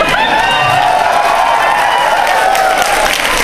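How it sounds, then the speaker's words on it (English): A live comedy-music audience at a show cheers and claps loudly, a dense sustained roar of crowd noise with scattered shouts. "And everyone will cheer."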